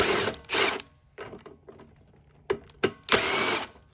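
A ratchet backs out the 10mm airbox bolts on a Honda-powered Craftsman lawn mower, with bursts of rapid clicking ratcheting separated by pauses and single clicks, close and clear with no talk.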